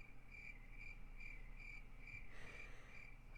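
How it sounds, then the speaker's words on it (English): A steady chorus of crickets chirps in even, repeating pulses, faint and alone with no voices, like a short night-time sound effect. "And the crickets."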